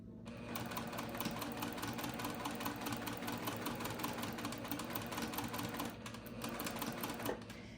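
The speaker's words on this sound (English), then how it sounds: "First thing, sew a few stitches." A sewing machine chain piecing small quilt block pieces, running in a fast, steady rhythmic clatter of stitches with a brief pause near the end, no speech.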